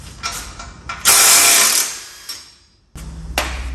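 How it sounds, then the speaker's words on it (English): A ratchet wrench working on the differential axle nuts of a turbo EF Ford Falcon, with short clicking bursts and a louder stretch of ratcheting, then a pause and a few more clicks up close. "Undo each nut, and you can actually just spin that around while undoing each nut."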